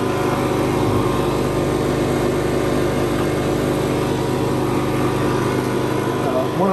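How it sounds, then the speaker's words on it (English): The vacuum pump of a Harvest Right freeze dryer runs with a steady, loud mechanical drone and motor hum, unbroken throughout. "on this pump, there's a lot of air coming out of here, and it's cold air"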